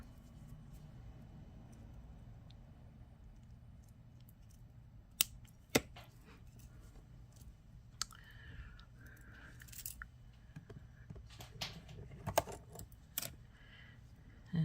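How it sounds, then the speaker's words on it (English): Beading wire for a shell necklace is snipped with cutters: a couple of sharp, isolated clicks stand out over quiet room tone, followed by faint fiddling and handling noises. "let's cut the extra wire"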